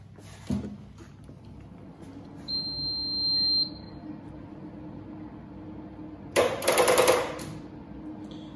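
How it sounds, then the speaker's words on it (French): A Barudan embroidery machine powers up with a short thump, then a steady high electronic beep lasting about a second. A low machine hum runs underneath, and a louder burst of whirring comes near the end. "on peut démarrer la machine."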